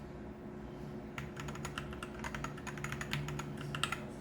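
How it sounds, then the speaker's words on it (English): Close-up typing on a MUCAI MKA610B 60% mechanical keyboard: after a quiet second, dense, irregular key clacks with a few louder strokes such as the shift key, continuing to the end without voices. "Spacebar is not that bad. Shift is really loud."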